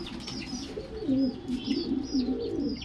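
Roller pigeons at a breeding loft in Hyderabad cooing repeatedly, soft low rolling coos close by, with faint higher chirps mixed in and no talking.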